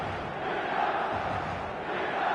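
A steady roar from a packed stadium crowd at an eFootball match, a dense, unbroken wash of voices swelling slightly but holding constant throughout, with no commentary over it.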